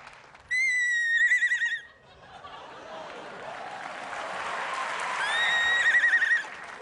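A person imitates a horse neighing on a talent show stage, giving two loud, shrill whinnies with a quavering tail, the second after a murmur of audience reaction.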